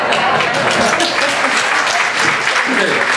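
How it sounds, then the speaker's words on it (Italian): An audience at a Capuchin friars' missionary gathering in Recanati breaks into loud, close clapping that stays thick and steady throughout, with a few indistinct voices mixed in. "E l'applauso per le bugie dei frati, no?"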